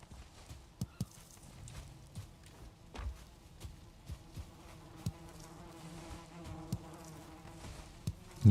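Bees buzz around beehives in the Valheim video game, a soft steady drone overlaid with scattered sharp clicks and taps from game sounds, all fairly faint and without speech.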